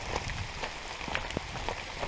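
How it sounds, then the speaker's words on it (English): Steady rain patters on surfaces along a hiking trail in Virginia, a dense hiss with scattered drops tapping nearby, no voices. "So it's still raining."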